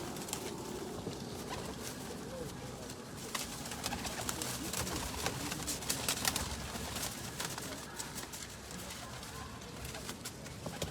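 A flock of teddy pigeons kept for sale coos continuously, with overlapping soft, throaty calls from many birds close by, plus faint rustling and patter in the background.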